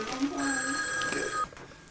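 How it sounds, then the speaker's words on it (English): A telephone bell rings steadily and fairly loudly for about a second and a half and then stops, with some talk around it. "oh, the phone rings"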